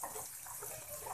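Onions frying in cooking oil in a pan, a steady broadband sizzle that holds evenly throughout, soft and continuous with no talk over it.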